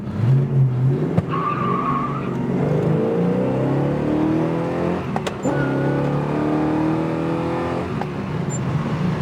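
A 1972 Chevelle, not a stock 265-horsepower car, pulls away slowly and accelerates, its engine note rising through steady revs with a brief tire chirp, loud and close.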